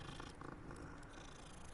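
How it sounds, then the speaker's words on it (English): A cat purrs while being petted in the video game Hogwarts Legacy, a close, continuous low rumble that runs steadily through the whole moment without any talk. "Keep petting Kitty."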